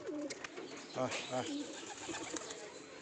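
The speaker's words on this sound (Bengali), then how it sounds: "এই দেখেন কবুতরটা মারামারি করে, কবুতরটার অবস্থা দেখেন একদম খুবই খারাপ।" Racing pigeons coo softly in a pair of brief, low throaty calls against a quiet, hissy background, faint and fairly close.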